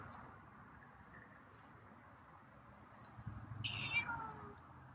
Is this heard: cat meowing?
yes